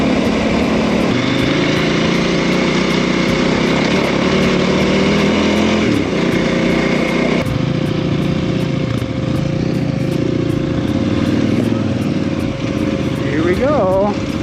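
A KTM 990 motorcycle engine purrs along at a steady, low-revving pace while a rider talks over the continuous drone.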